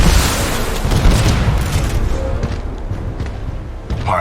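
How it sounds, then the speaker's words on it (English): In the Titanfall 2 video game, an enemy Titan crashes down with a heavy booming impact, a loud sustained rumble that slowly fades over several seconds. "Pilot, enemy Titanfall detected."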